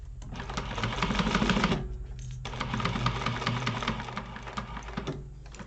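A sewing machine bastes the raw edge of a Lemonza wallet in fast, even stitching runs, loud and close, with a brief pause between two bursts.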